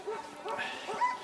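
Sled dogs at a winter excursion site in northern Norway yip, whine and bark excitedly in a close, busy chorus of overlapping calls.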